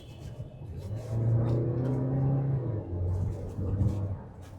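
A new Tata Harrier or Safari SUV accelerates hard along an open road stretch, its engine drone climbing steadily in pitch before easing and building again, loud and close with steady tyre rumble beneath.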